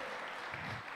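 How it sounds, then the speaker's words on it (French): Brief, soft applause from an audience at a corporate IT forum panel, honouring the team behind an animation, heard as a continuous faint wash of many hands clapping at a distance. "Est-ce qu'on peut applaudir pour l'équipe qui a réalisé cette animatique?"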